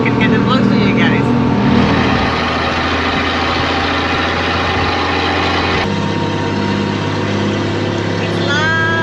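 An off-road vehicle idles with a loud, droning exhaust, its resonator missing after it flew off on the highway. The rumble is steady and close, with a slight shift partway through.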